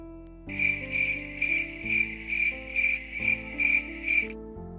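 Crickets chirp in a steady rhythm of about eight pulsing bursts, loud and close, over a low sustained musical drone.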